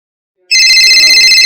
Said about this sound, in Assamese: আকৌ মাইকীয়ে ফোন মাৰিলেই